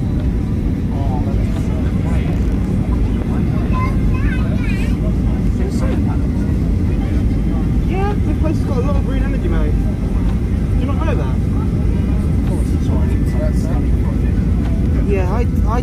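Airplane rolling on the runway at Madeira gives a loud, steady roaring rumble throughout, with people talking over it.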